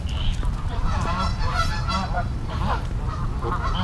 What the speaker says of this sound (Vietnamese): Đi cùng với mấy con ngỗng này